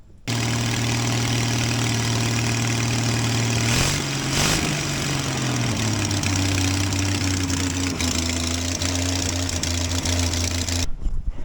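A 1966 Ford Mustang V8 engine with an unsorted carburetor catches and settles into a rough, steady idle, its hum dropping slightly in pitch midway, close and continuous with no talk.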